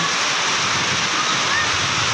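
Continuous rushing floodwater in the Philippines from clogged drains, a broad steady roar like a strong torrent flowing nearby, with no breaks.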